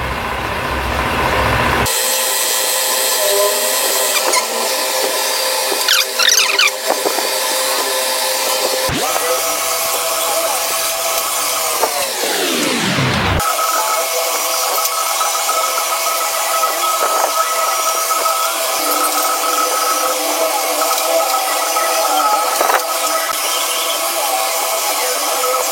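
A steady lathe hum with a grinding, whirring drill boring into a stainless steel tube, pitch sweeping down midway, then continuing with a steady scraping tone.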